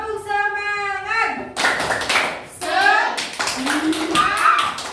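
Children standing in a classroom do a rhythmic group spirit clap, sharp claps in short bursts mixed with their loud chanted voices and a teacher's speech.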